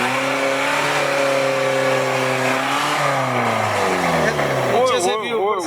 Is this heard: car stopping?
yes